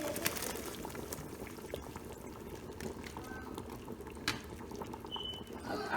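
Egusi soup bubbling steadily in a pot as ground egusi melon seeds are added, a constant low simmering burble with small splashes and clinks, close and moderately quiet, no talk.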